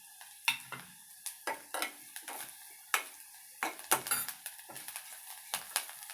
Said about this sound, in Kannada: ಈರುಳ್ಳಿ ಇವಾಗ ಚೆನ್ನಾಗಿ ಫ್ರೈ ಆಗಿದೆ.